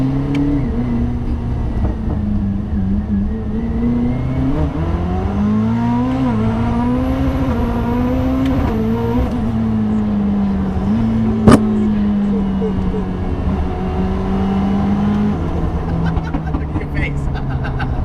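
A Koenigsegg Jesko accelerates hard, its engine note climbing and falling through gear changes as a steady roar, with people talking inside the car over it.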